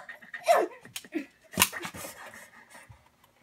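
Nintendo video game dog, heard as synthesized panting, yelps and short bark-like bursts in an uneven rhythm, fairly close and moderately loud, with no talking over it.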